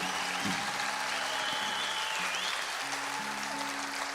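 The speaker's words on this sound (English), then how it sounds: "It sounds like a country music crowd." A country music concert crowd at the Opry applauding, a steady wash of clapping heard at a distance with faint tonal hum underneath.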